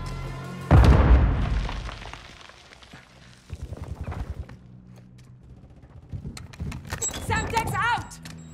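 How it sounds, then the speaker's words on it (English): A frag grenade detonates in a video game with one sharp, loud boom near the start that decays away, followed by scattered thuds, clatter and electronic chirps; a voice calls out during the action. "Incoming frag!"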